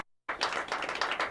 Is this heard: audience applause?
yes